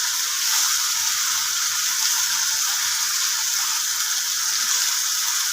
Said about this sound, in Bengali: এবার ভালো করে মশলাটা কষিয়ে নিচ্ছি।